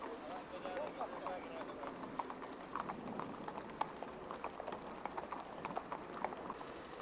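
Horses walk across a town road in Newmarket while traffic waits, their hooves clip-clopping in a steady, faint, repeated rhythm against a hushed street background.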